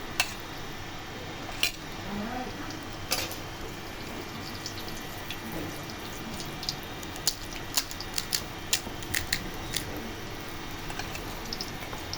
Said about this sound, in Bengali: দেখছেন কসকস করার আওয়াজ? মনে হয় আগেই কসকস করে আওয়াজ বাইরে দিতেছে, খাওয়ার আগেই।